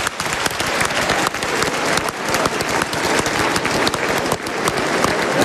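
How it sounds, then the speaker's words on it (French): A large audience in the Palais des Congrès in Yaoundé applauds at the opening of the 2023 FECAFOOT Ballon d'Or ceremony, with loud, sustained, dense clapping filling the hall throughout. "qu'on applaudisse tous ma charmante maman et mon papa"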